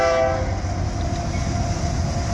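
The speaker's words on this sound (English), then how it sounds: "we were able to get out of the cars just in time to see the train come through the tunnels" A Union Pacific train on the Evanston Subdivision rumbles steadily through tunnels, a loud continuous roar with a faint horn-like tone fading early on.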